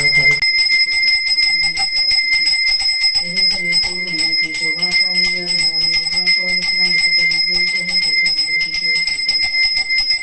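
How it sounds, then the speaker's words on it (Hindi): A small prayer bell rung during a home puja, bright rapid metallic ringing repeated continuously and close, with a voice chanting or talking beneath it. "मुझे ना घंटी की आवाज़ सुनाई दे रही है"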